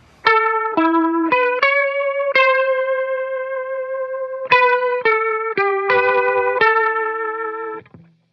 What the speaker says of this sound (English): So this is the rotary sound running in front of the amp,